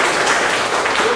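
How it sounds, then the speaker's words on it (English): Audience clapping at a Rotary Club Interact Day conference, a dense continuous wash of many hands sustained at steady loudness through the short moment, with faint voices mixed underneath. "Clap for it very well"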